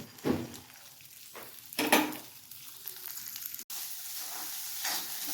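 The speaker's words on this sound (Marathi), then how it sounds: "इथं तेल टाकून भाजून घेत आहे तेलामध्ये थोडीशी हळद टाकायचं आणि असं मस्तपैकी भाजून घ्यायचं" Sprouted mung beans roasting in oil with turmeric, a soft continuous sizzle broken by a few louder stirring scrapes of the pan, close and alone without talk.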